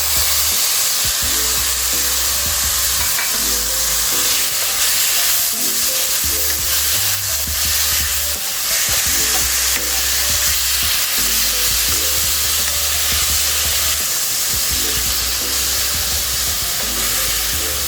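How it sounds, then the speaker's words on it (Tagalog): Half a kilo of ground pork with onion and garlic sizzles loudly in a pan for menudillo, the steady hiss broken by repeated rhythmic scraping strokes of stirring. "Halu-haluin lang natin para maluto yung ating karning nilagay"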